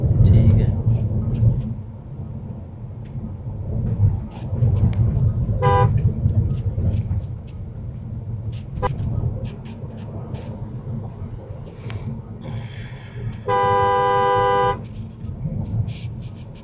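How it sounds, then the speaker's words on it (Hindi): Car horns toot in short bursts amid rumbling road traffic, heard from inside an MG Windsor EV, including one long sustained honk, with people talking over the noise. "साइड हटते ही नहीं है, कितने हॉर्न बजा दो।"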